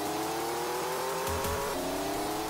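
Race car engine in the Le Mans video game, a steady electronic engine drone that drops in pitch at a gear change into second and then climbs again, loud and continuous with no voices.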